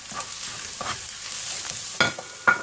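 Spices tipped into a hot pan and stirred, with a quiet sizzle under scattered scraping strokes and two sharper stirring bursts near the end.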